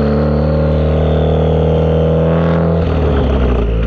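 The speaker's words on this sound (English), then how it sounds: "I like to engine brake and then go into neutral." A manual car's engine drones steadily at low revs in third gear, its pitch dropping and the tone shifting as engine braking slows the vehicle.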